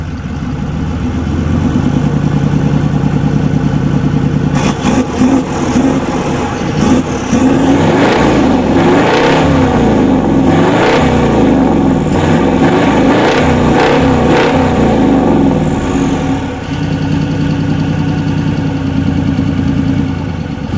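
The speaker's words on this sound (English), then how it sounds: "Your car's too loud." Toyota LandCruiser engine idling steadily, then revving hard several times in loud, rising bursts before settling back to a rough idle, close and without talk.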